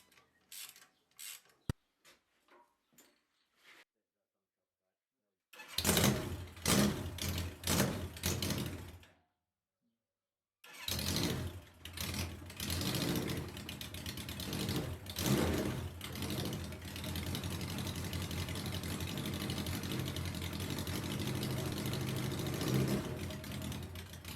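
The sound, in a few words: Suzuki GS1100G motorcycle engine running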